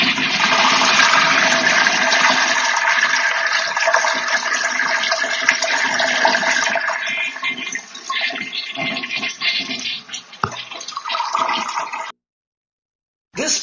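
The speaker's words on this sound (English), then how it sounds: "There was no more beautiful music than the flushing of this toilet after 3 years" A toilet flushes loudly and close up in the restroom of a woodshop with newly installed plumbing, a strong steady rush of water that thins into refill gurgles before cutting off after about twelve seconds.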